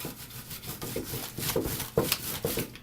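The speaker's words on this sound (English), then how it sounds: "you just roll over it a whole bunch. It'll grind itself up." A rolling pin is worked back and forth over food sealed in a zipper bag, producing a steady close-up rubbing and crunching with rhythmic grinding strokes.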